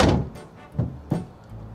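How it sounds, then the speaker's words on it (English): A door on a cheap new car is pulled shut, giving a close dull thunk followed by a couple of lighter rattling knocks from a somewhat flimsy panel. "When I close the door, look at this."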